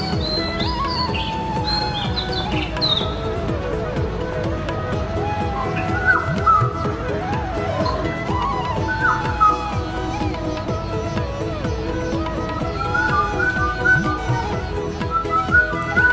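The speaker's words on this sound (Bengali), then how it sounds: "চলো এক এক করে শোনা যাক সবগুলো পাখিদের আওয়াজ" Recorded bird calls play from a push-button exhibit at a science museum: a run of chirps, whistles and warbling songs, fairly loud and continuous over a low murmur of a crowd in the hall.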